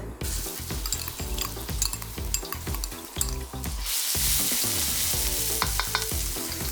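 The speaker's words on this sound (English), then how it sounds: "Now add in the garlic and the chilies." Garlic and chilies fry in oil in a hot wok, with a steady hiss under repeated scraping and tossing strokes of a utensil that swells into a louder sizzle midway.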